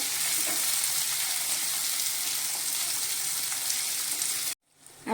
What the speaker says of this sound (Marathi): आपला कांदा टोमॅटो भाजून झालेला आहे